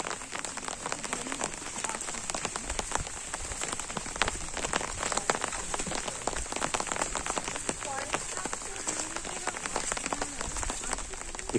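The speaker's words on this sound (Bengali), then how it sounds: "আবার বৃষ্টি শুরু হয়েছে।" Rain falls near the Pareshnath temple at Mukutmanipur dam, a steady close patter of drops on surfaces that hisses on evenly for nearly twelve seconds.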